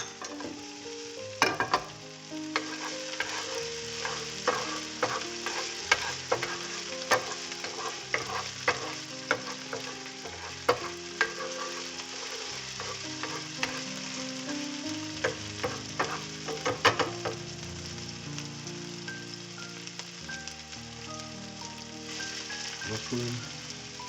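Chili and eggplant stir-fry sizzle steadily in a hot pan while a spatula scrapes and taps in quick, irregular strokes, close and continuous under faint background music.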